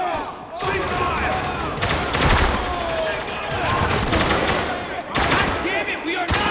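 Dense bursts of automatic gunfire from a firefight in the video game Spec Ops: The Line, loud and close, with voices shouting over the shots.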